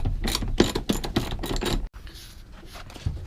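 Close, quick ratcheting clicks from a hand ratchet backing out race car seat bolts, several bursts of rapid clatter for about two seconds, then quieter handling and faint knocks.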